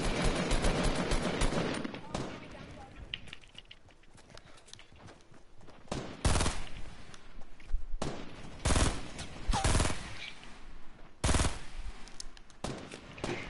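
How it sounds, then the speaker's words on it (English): Gunfire in the video game Fortnite: loud, close bursts of rapid automatic shots broken by short pauses, with voices chatting between volleys. "Taking shots from above."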